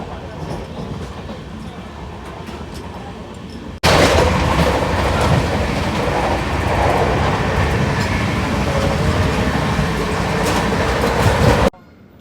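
A long-distance passenger train from Kochi to Delhi rolls along the rails with a loud, continuous rumble and rattle of the carriages, growing louder partway through and holding steady before cutting off.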